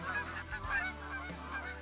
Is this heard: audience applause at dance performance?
no